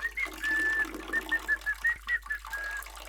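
A person attempting to whistle, producing a short, uneven series of thin, wavering high notes. The notes are faint and breathy, with brief gaps between them and no talking.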